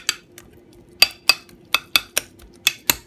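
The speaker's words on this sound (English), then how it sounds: "I'm gonna go over it with my spoon." A spoon taps and clinks against a bowl in a loose rhythm of about a dozen sharp strikes while mashing milk-soaked bread for a steamed pudding, close and clear with no talking.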